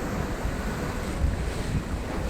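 Sea waves and wind on a sailboat crossing the Mediterranean between Cyprus and Port Said, heard as a steady broadband rush of water and wind buffeting the microphone, fairly loud and continuous with no talking.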